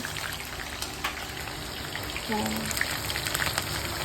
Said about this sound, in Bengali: গরম গরম পকোড়া হচ্ছে